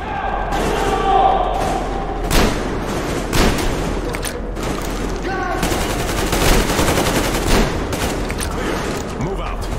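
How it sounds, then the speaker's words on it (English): Covering gunfire in Metro Exodus, Two Colonels: loud bursts of automatic gunfire and scattered shots repeat over about ten seconds, close and punchy, with shouted voices mixed in. "Covering fire for the Colonel! No saving ammo!"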